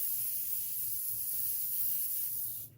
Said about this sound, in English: then you spray the area